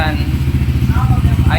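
A Honda Click v3 scooter fitted with a JVT v3 exhaust pipe idles close by with a low, steady pulsing burble, and people talk over the engine.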